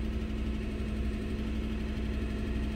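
A steady, low idle from a 2015 GM truck's 5.3 V8 with a misfire, a constant hum and slight stumbling unevenness, close and continuous, no voices.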